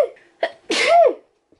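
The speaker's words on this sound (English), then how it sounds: "I need to sneeze." A single sneeze up close, a short sharp intake and burst with a rising, voiced tail, ending in quiet.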